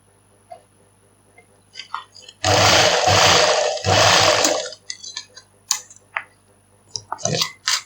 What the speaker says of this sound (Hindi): इस पर हमें सिलाई चलानी है।